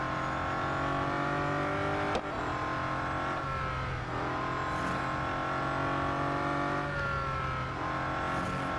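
A car engine in the racing game Real Racing 3 holds a loud, sustained high-revving drone with small pitch dips and a brief impact click, steady throughout with no talking.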